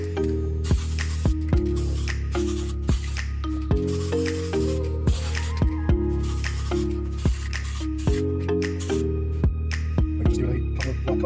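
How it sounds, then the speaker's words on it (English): Aerosol spray paint hisses in long steady bursts as black is sprayed onto Ducati Monster 696 exhaust covers, broken by brief pauses and the can's nozzle clicks, close and loud with a low hum beneath. "We'll spray paint them black and see what they come up like."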